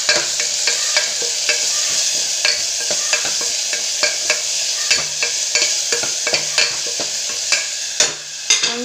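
Ginger garlic paste sautéed in a pan for vegetable biryani: loud, close sizzling with a steady series of sharp scraping stir strokes throughout, no voices.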